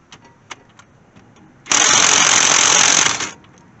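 A power tool zings a brake caliper off a junked car in a junkyard, a loud burst of harsh impact-driver rattling lasting under two seconds, preceded and followed by faint clicks and handling noises.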